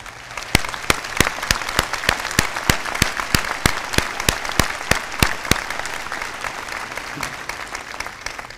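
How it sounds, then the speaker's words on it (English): A commencement crowd at Western Washington University's fall ceremony breaks into sustained applause, a dense wash of hands with a few sharper nearby claps standing out in a loose rhythm. "Please give them a round of applause"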